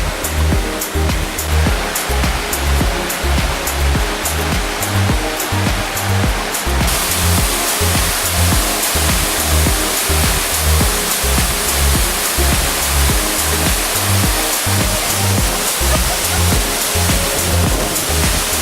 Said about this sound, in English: This is the first waterfall on the trail. A pretty decent sized one.